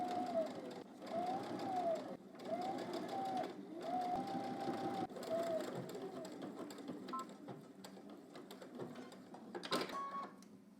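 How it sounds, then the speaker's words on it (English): A sewing machine stitches in the ditch along the waistband of baggy pants in several short, rhythmic runs with small stops between, close and moderately quiet, followed by a few light handling clicks near the end. "let's head to the machine and we're going to stitch in the ditch"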